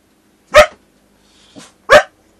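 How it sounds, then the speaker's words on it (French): Dogs bark at a car passing by, two loud, close single barks about a second and a half apart with a fainter yelp between them, no talking. "il y avait une voiture, du coup ça a fait aboyer les chiens"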